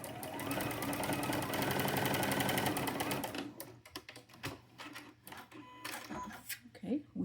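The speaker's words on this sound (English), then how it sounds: "I'm going to take it over and I'm going to sew that real quick" A sewing machine stitches quilt fabric in a fast, steady run for about three seconds, then stops and gives way to quieter handling clicks and rustles close by.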